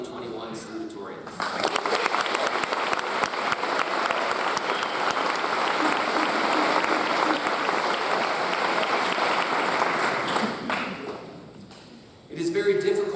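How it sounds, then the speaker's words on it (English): Sustained applause from a graduation commencement audience honoring salutatorians, steady dense clapping that swells and holds for about ten seconds before fading, with a voice speaking briefly at the start and end. "One more applause for the 2021 salutatorians."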